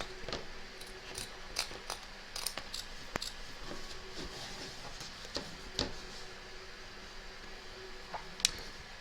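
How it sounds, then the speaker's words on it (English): Scissors snipping around the edge of an embroidered in-the-hoop tab, a string of faint, irregular clicks and cuts over a soft background hiss. "turn your hoop over and, taking care not to cut any of the stitches, trim around the edge of your tab"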